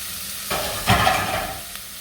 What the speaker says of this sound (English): I just love onions, peppers, garlic being sauteed.